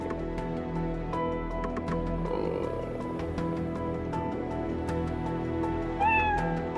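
A cat meowing in the video game Skul: The Hero Slayer, short repeated mews over a steady droning game soundtrack, ending in a louder rising meow.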